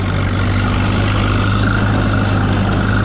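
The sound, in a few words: four-cylinder classic tractor engine plowing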